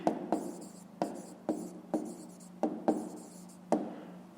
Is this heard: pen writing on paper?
yes